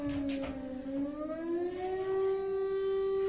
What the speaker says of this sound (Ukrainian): Знову сирена. Так, а м'язко